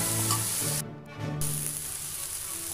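Onions sauté with salt in a pan, giving a steady close sizzle that dips briefly halfway through and then carries on alone with no voices.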